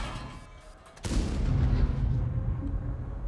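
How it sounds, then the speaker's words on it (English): A Ferdinand tank destroyer fires a high-explosive shell at a T-34-3 in a tank video game: one sudden heavy boom that swells into a long, rumbling roar and slowly fades, loud and alone. "Looks like the Ferdinand is firing HE, maybe?"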